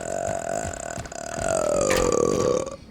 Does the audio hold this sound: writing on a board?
no